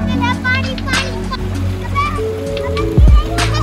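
Children and adults wade into a river on a family outing, their chatter and laughter over sloshing water, with one louder splash near the end.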